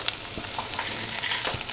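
Curry leaves sizzle and crackle in hot oil with fried brinjal in a nonstick pan, a steady close frying hiss broken by sharp little pops and stirring scrapes.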